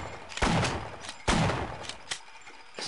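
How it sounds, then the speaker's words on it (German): Turret gun firing in the Half-Life video game, two loud, close bursts of gunfire with booming tails, followed by sharper single cracks and thuds, no talking. "Das ist ein fieses Geschütz."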